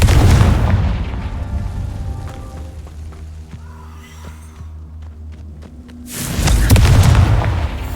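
In the Hogwarts Legacy video game, a Confringo fire spell detonates in a heavy booming blast. A second loud explosion lands about six seconds later, with quieter clatter and rumble in between.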